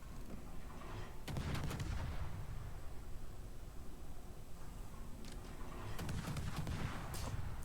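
Heavy warship gun salvos firing in a naval combat video game, two bursts of deep booming blasts with crackling tails, the first around one second in and a second cluster near the end, with a low rumbling background between them.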